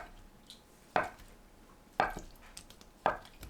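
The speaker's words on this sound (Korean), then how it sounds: "두부를 한 입 크기로 썰어주세요." A knife cuts tofu into bite-size pieces on a board, three distinct sharp thunks spaced about a second apart, close up in a quiet kitchen.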